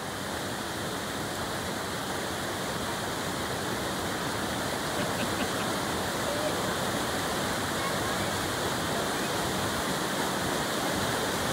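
Water washes steadily against the Lake Tahoe shoreline in a constant broadband rush, with no break in the wash throughout.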